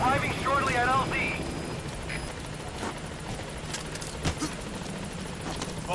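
Helicopter arriving at a landing zone in Metal Gear Solid V: The Phantom Pain, a steady rotor drone beneath a radio voice at first, then continuing alone with occasional thumps.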